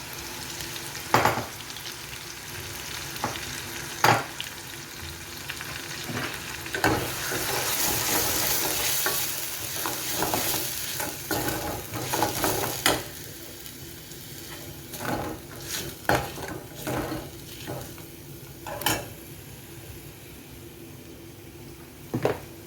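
Onion paste frying in oil for a vegetable kofta curry, a continuous soft sizzle punctuated by repeated scraping and clacking of a stirring spoon against the pan.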